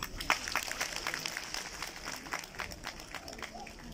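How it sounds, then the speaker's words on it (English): An audience claps in welcome for Sophia at an event in Kolkata, a busy patter of hands sustained over several seconds at moderate distance, with some voices mixed in. "let us all give Sophia a warm welcome to the city of Kolkata with a big clap"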